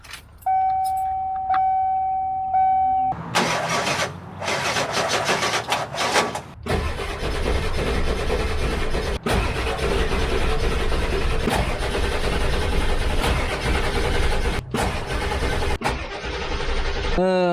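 A 7.3 PowerStroke diesel engine in a Ford E350 van cranks over and catches, settling into a loud, rough, steady diesel run close by, with brief clicks and a short whine before it starts.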